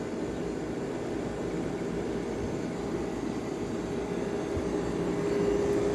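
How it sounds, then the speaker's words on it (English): An air conditioner's reciprocating compressor runs with a steady low hum and broadband whir, even and continuous throughout, with a faint tonal whine layered in. "These reciprocating compressors are no joke. They actually run really nice. And really quiet too"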